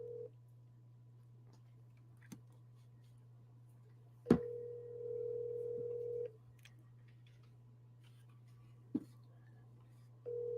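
A phone call rings unanswered, with a pair of long ringback tones over a steady low hum and a few sharp clicks between them.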